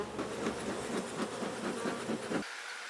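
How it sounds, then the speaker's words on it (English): Honey bees from an opened backyard hive being inspected and boxes reversed, a dense, steady buzzing drone with a slightly pulsing texture, close and fairly quiet, cutting off abruptly near the end. "Got a good population of bees here."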